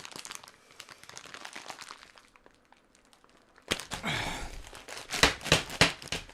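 A plastic Mexican candy package crinkles and crackles in bursts as it is handled, quieter at first, then loud sharp crumpling and tearing near the end.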